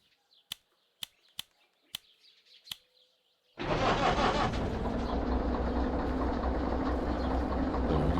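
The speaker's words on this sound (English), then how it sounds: "We are going to start up our locomotive." A locomotive starts up in the Derail Valley train simulator: a few sharp clicks of switches, then a sudden loud diesel engine roar that settles into a steady, heavy rumble and continues alone.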